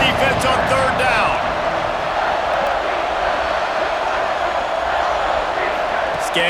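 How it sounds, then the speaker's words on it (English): Stadium crowd for the Red Raiders roars steadily throughout a College Football 26 game on a 3rd-down defensive stand, a dense continuous wash of noise with a few sharper bursts near the start and end. "The Red Raider crowd rising to the occasion to help its defense on 3rd down."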